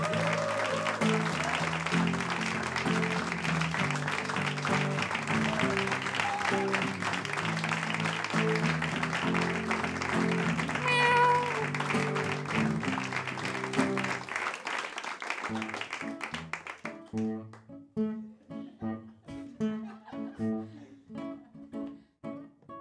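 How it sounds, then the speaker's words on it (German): Audience applause at a comedy show in a pub, a dense, steady clatter of clapping over tonal music that runs for most of the stretch, then thins into scattered claps as the music carries on. "Ein kräftigen Applaus für Radeschnik."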